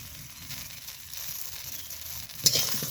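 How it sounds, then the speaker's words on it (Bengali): Vegetables (neem leaves and brinjal) fry in a pan with ginger-cumin paste and salt, giving a soft steady sizzle with light crackling and a brief louder burst of stirring near the end; no one talks. "খুব সুন্দর করে এবার ভেজে নিব মশলা দেওয়ার পরে আবারও"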